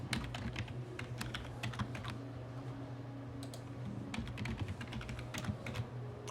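Keys clatter on a computer keyboard as a password is typed, a steady run of quiet, close clicks with short pauses and no talking.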